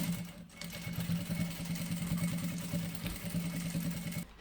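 A sewing machine runs steadily while stitching vinyl fabric for a cosmetic bag, its needle making a fast, even mechanical chatter over a low motor hum, fairly quiet and continuous with one brief pause.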